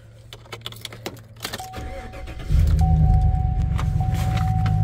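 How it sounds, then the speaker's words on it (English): A 2016 Chevrolet Silverado pickup truck's engine cranks and catches, settling into a loud, steady idle after some interior clicks and a chime. "let me start this truck up real quick"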